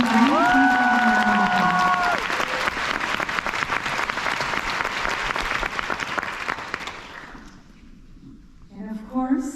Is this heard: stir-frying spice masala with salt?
no